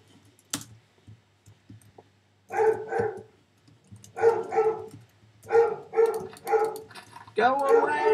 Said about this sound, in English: There's the dog again.